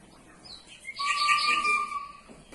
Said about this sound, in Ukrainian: У саду співав соловей.